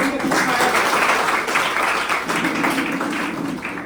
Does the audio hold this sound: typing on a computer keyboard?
no